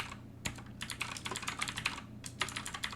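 Quick, uneven keystrokes clatter on a computer keyboard in bursts, close and fairly quiet, with a brief pause midway.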